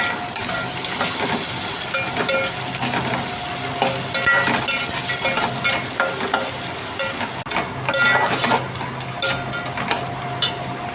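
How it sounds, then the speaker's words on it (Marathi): Onion and green chili tossed into a pan of sautéed potatoes, giving a continuous loud sizzle with busy stirring scrapes and occasional metal clinks, with no voices. "बटाटा असा छान परतलेला आहे. आता टाकूया आपण कांदा, त्यासोबतच मिरची टाकलेली आहे."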